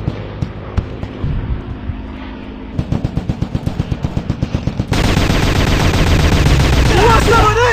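Rapid bursts of gunfire in the mobile shooter Commando Strike during a multiplayer match on a terminal map, loud sustained automatic volleys with sharp repeated shots, shifting into dense continuous firing near the end.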